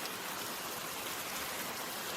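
Steady rain falls on a surface with a soft, even hiss that stays constant throughout, fairly quiet and without voices.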